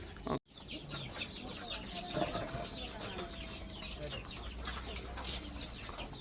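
Young chicks peep and cheep continuously on a farm, a dense chorus of thin high chirps close by, with a brief clatter near the start.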